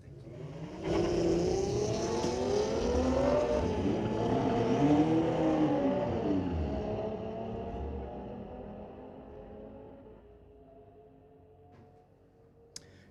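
Cars racing down the strip at Friday night street legal drags at Mission Raceway Park, a loud engine roar building and sweeping past for several seconds, then fading into a quieter idle rumble with a brief sharp tick at the end.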